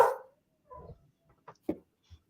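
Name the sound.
dog barking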